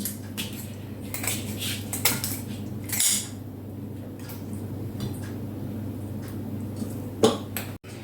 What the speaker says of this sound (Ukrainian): І наш хребет нам треба ось так порізати на декілька кусочків.